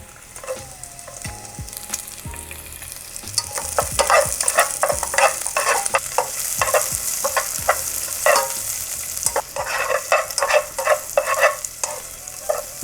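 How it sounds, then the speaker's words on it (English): Onion and garlic sauté in rendered bacon fat for stir-fry noodles, crackling loudly and continuously close by. A utensil stirs and scrapes the pan in rapid bursts, and no one speaks. "now it's time for us to saute our onion and garlic"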